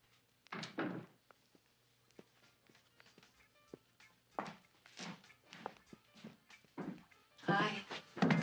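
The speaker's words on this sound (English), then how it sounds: "We'll get your door open." A door being opened in a scene from a Hardy Boys and Nancy Drew mysteries episode: a series of soft wooden thunks and latch clicks with a few footsteps, quiet and close, interspersed with short bursts of voices.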